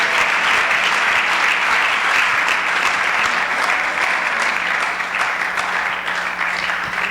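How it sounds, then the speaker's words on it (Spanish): A church congregation claps loudly and steadily for about seven seconds, a dense, sustained wash of applause with no pauses, filling a large worship space. "Démosle un aplauso bien fuerte al Rey Jesús."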